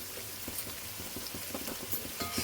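Spices for chicken curry fry in a pan, crackling and popping steadily as the oil sizzles close by, with no voices.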